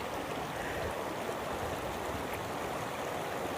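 Steady, full broadband rush of a woodland river and brook flowing over rocks, a constant close wash of water with no pauses and no voices.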